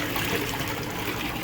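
Water pours steadily from a short PVC pipe with a 90-degree elbow into an 800-gallon indoor turtle pond, a continuous close splashing and rushing with no voices.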